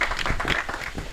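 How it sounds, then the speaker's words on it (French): Audience applause at the Miss BPX 2018 pageant, a brief burst of dense, steady clapping from a crowd. "Applaudissez chaleureusement Christelle Chanel Pierre."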